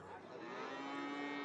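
A Gir-cross cow calf about eight to ten months old gives one drawn-out moo at a cattle market, heard fairly faintly against a low background with no talk over it.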